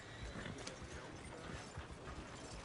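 Horse hooves clip-clopping at a steady walking pace in a video game, a continuous close rhythmic clatter with no speech.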